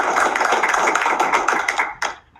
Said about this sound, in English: we should give her a round of